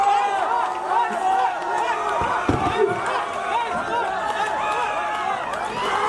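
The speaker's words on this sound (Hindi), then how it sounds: "आप सब खड़े हैं, तालियां बजा रहे हैं, साथ में झूम रहे हैं" A large live audience stands clapping and cheering, a dense, steady roar of crowd noise with voices mixed throughout, holding loud and even for the whole stretch.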